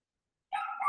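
A dog gives a short, single bark at moderate distance, with silence before it.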